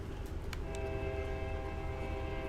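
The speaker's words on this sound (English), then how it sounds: "lovely coal train going by in the distance" A coal train passes in the distance, its horn sounding as steady, faint tones over a low rumble of rolling wagons, with no voices.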